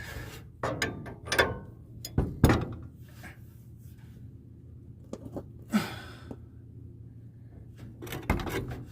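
A hand ratchet works a bolt on the radius arm bushings of a 1976 Ford truck, producing short bursts of close clicking and metallic clunks separated by quiet pauses.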